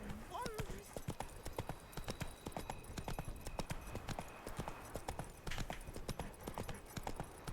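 Roach the horse gallops in The Witcher 3, hooves beating a fast, steady clip-clop rhythm close by throughout, with a brief voice near the start.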